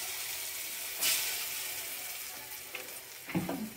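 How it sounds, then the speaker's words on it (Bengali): Panch phoron spices and a dried red chilli frying in hot oil in a kadai, a steady close sizzle with a brief louder hiss near the start and a few light clatters toward the end. "ফোড়ন ভাজা হয়ে গেছে"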